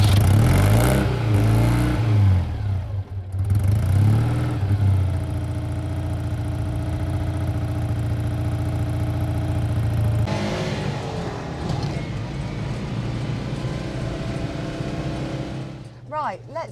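A 1960s-70s French Citroen Ami 8 classic car runs behind the listener with a steady, throbbing low engine note that holds for the whole stretch, with a voice briefly over it at the start.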